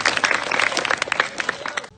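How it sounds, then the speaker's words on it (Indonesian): Students in a school hall at a police outreach session on drugs and traffic safety clap together in a brief, lively burst of dense claps that stops abruptly after about two seconds. "Oke, tepuk tangan dulu buat Wahyu."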